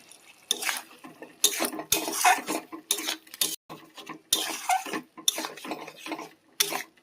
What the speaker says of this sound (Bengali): একটু ভেজে নেবো হালকা করে